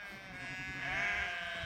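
Sheep bleat close by in a field, a sustained wavering bleat that swells in the second half, with a faint rustle underneath and no talk.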